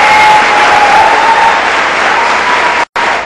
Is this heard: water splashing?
no